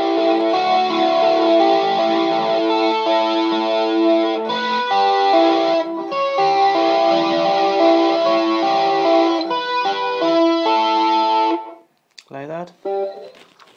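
Electric guitar through distortion and chorus effects plays the opening phrase of a song, a dense sustained passage of chords and runs for about eleven seconds, then stops abruptly with a few short scraping handling noises.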